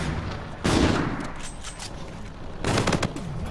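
Bursts of gunfire in Call of Duty Infinite Warfare during a crucible battle, two loud rapid volleys separated by a quieter pause, close and without speech.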